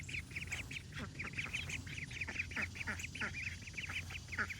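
A brown duck on a small farm quacks repeatedly in quick, busy bursts, fairly close and steady throughout, with other birds and light outdoor noise underneath.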